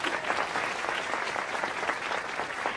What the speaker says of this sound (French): je vous demande aussi d'applaudir bien fort la femme exceptionnelle qu'est Terry Carpenter